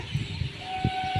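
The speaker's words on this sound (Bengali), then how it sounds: "একটা ট্রেন আসছে আমরা যাব" A train pulls in at a busy station platform, a brief low rumbling with a steady whining tone and a few heavier thuds, fairly close.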